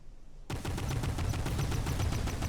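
Warship guns in the naval combat game Modern Warships fire in a sudden, sustained barrage of rapid, rumbling shots that start abruptly and continue loudly without pause.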